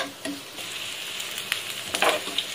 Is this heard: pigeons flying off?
no